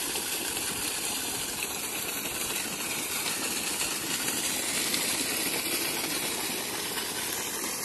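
A 2HP solar water pump runs on a 2KW solar setup, with water pouring into a mint field as a steady, loud, unbroken rush of water and motor noise and no voices.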